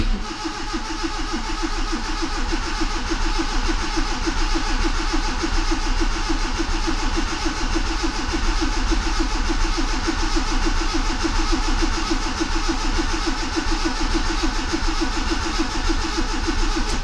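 A Proton Wira car engine cranks and catches, settling into a steady, loud mid-pitched running hum that continues unbroken, with no talking.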